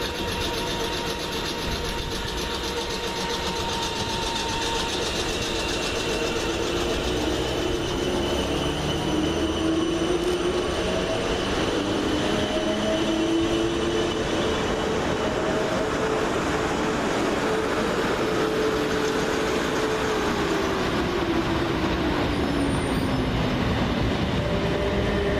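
South Western Railway Class 455 electric trains move through Surbiton station with a continuous loud rumble of wheels on rails and rising, drawn-out wheel squeals, heard close and steady throughout.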